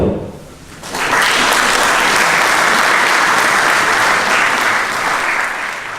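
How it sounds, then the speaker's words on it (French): Loud, dense applause for the volunteers of the Critérium des Cévennes 2017 rally, swelling suddenly after a second and holding strong before easing slightly at the end. "je pense que c'est eux qu'on peut applaudir"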